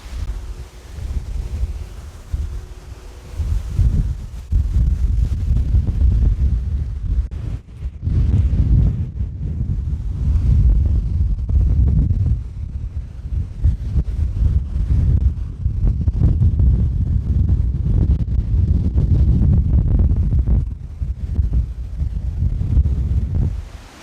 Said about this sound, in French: Beaucoup, beaucoup trop de vent, des rafales de fou.